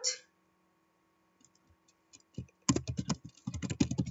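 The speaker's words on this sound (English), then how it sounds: "Typing my name, gotten pretty fast at that." Quiet at first with a few scattered key taps, then a rapid burst of clattering keystrokes on a computer keyboard, close and fairly faint.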